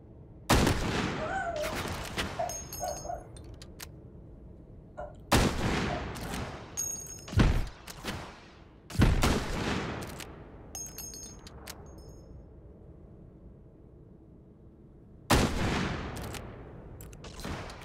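Gunfire in Hot Dogs, Horseshoes & Hand Grenades, a VR shooter: several loud, separate shots and short bursts ring out with quiet gaps between them, each with a sharp crack and a brief echoing tail.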